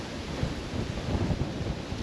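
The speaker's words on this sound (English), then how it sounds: "Wind is rough today, that is for sure." Strong wind gusting across an open lake on a November day, a loud, steady broadband roar with low rumbling buffets against the microphone, continuous for the whole two seconds with no voices.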